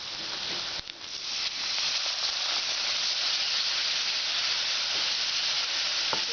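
Vinegar hits a hot pan of Kerala lime pickle with a sharp burst, then settles into a steady loud hiss and sizzle that runs on without a break.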